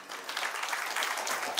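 Brief, faint applause from an audience at an educational seminar, a soft wash of clapping heard at a distance for under two seconds.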